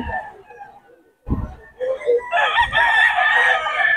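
A gamecock crows loudly at a market in Bocaue, the call rising and holding for a couple of seconds after quieter clucking and rustling, with people talking nearby.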